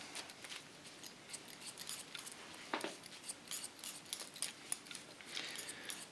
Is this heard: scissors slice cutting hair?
yes